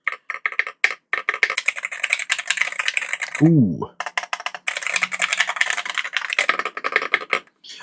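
Rapid, continuous typing on an MCHOSE Ace 68 keyboard with magnetic switches: dense, close clicking keystrokes fill the clip, briefly interrupted by a short vocal exclamation.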